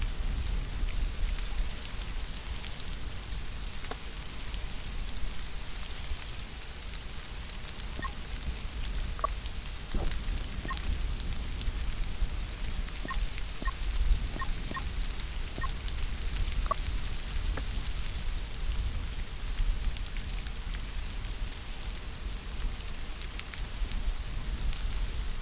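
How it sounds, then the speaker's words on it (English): Steady rain falling in the survival game Stranded: Alien Dawn, a continuous even hiss with scattered faint drop-like ticks throughout, no voices. "The rain's getting rid of it."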